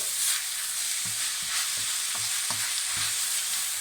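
Ginger and garlic fry in a pan for a lamb pepper fry, giving a constant close sizzle broken by rhythmic scraping and knocking from stirring, with no voices.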